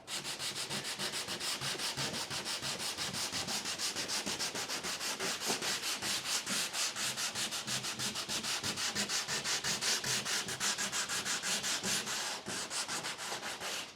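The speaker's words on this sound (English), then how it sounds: "I'm going to try to go ahead and sand this out." Continuous rapid rasping of sandpaper on a soft pad sanding out a water-damaged spot on wood, a steady rhythmic scrubbing close up that runs without pause for the whole stretch.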